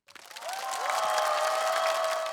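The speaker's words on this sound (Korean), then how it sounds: "모두 큰 박수 부탁드립니다." Applause and light cheering from a large crowd at a university entrance ceremony held in a metaverse space, rising quickly and then holding steady and dense for a couple of seconds.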